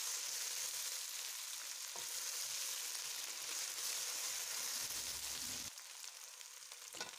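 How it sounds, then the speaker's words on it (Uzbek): Carrots and potatoes fry in a pan for a pea soup, giving a steady close sizzle with faint stirring scrapes throughout and no talking. "Buni ham yaxshilab qovurib olamiz."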